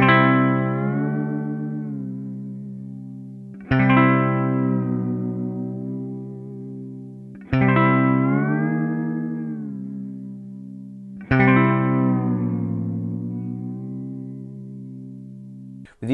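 Four sustained electric guitar chords struck and bent on a Strat-style tremolo or Floyd Rose using standard strings, each chord sliding noticeably out of tune as it rings and decays, roughly every four seconds with no talking.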